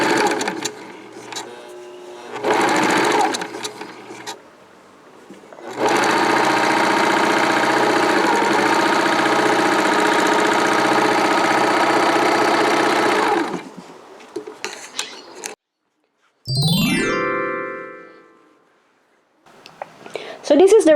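A serger sewing machine runs in short bursts and then one long steady whir while sewing side pockets, the motor stopping and starting again between passes. Brief stretches of other noise sit between the runs.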